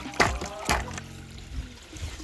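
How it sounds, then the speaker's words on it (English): Mixed water poured down a backyard koi pond waterfall, heard as a close, fairly loud splashing gush with two stronger bursts early on, then a steady trickle beneath a quieter voice. "I'm going to pour it down the waterfall so it gets nice and mixed."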